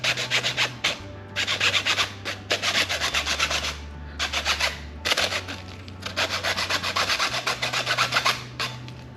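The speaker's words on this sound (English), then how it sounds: "Okay, I got a hacksaw. Let's take a look at it. Let's see what we got. I'm gonna cut this thing open." Hacksaw cutting through a plastic termite bait station, a steady run of rasping back-and-forth strokes with brief pauses between bursts, close and loud with no talking.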